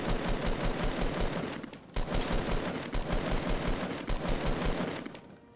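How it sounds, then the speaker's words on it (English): Rapid bursts of scoped assault rifle fire in a video game, loud and close, with a dense repeating rhythm and only a brief pause partway through. "Most underrated weapon in this game is the scoped AR"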